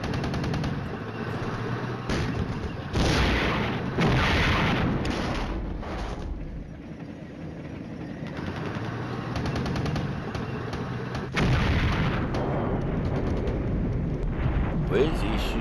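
Sustained rumbling battle sounds from the wargame Flashpoint Campaigns: Red Storm, dense gunfire and booming artillery blending into a continuous roar with a few sharper surges, while someone talks over it.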